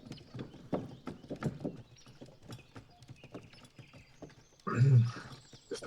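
A horse-drawn cart moves through a dark forest, its hooves clip-clopping in an uneven rhythm. A louder burst comes near the end, and quiet voices can be heard faintly underneath.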